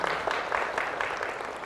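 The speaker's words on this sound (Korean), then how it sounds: "먼저 박수 한번 쳐주세요" An audience at a Guro district university admissions briefing applauds in a steady, moderately distant patter of many hands lasting a couple of seconds.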